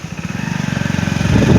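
A motorcycle engine chugs steadily at close range while riding along a village road after rain, with a rapid regular firing pulse that builds slightly louder toward the end.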